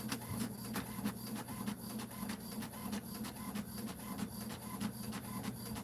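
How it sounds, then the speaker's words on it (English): An office printer runs through a document in a steady mechanical rhythm, with repeated clacking feed strokes over a constant whir, close and alone without speech. "Oh, this is how it's being printed."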